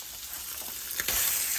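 Eggs and tomato frying together in a single pan for a breakfast, a steady close sizzle that swells into a louder burst of crackling near the end, with faint stirring.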